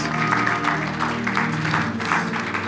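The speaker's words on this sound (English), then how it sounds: "If you are clapping, clap better for Jesus." Church congregation clapping in rhythmic bursts over sustained music, a steady crowd sound with accented claps recurring through the passage.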